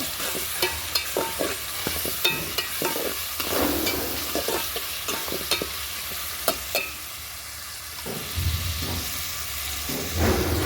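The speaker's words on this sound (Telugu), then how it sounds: "పచ్చివాసన పోయేటట్టు ఈ అల్లం వెల్లిపాయ పేస్ట్ బాగా వేయించుకోవాలి" Ginger garlic paste frying in a pan over a wood-fire stove, a steady close sizzle broken by scraping stirs and clinks of the spoon throughout.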